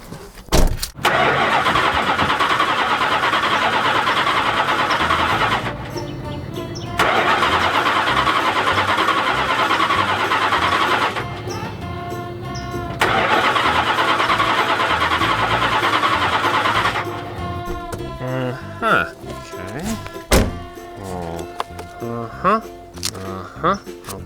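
An old car with a lean-burn carburetor, loud and close, running in long steady stretches broken by brief pauses, then a rougher, uneven stretch with revving and clunks toward the end.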